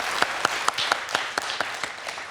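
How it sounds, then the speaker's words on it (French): Studio audience applause on a French TV quiz show, a steady wash of clapping with a few sharper individual claps standing out at a brisk, regular pace, moderately loud and with no talking. "Applaudi par Lionel."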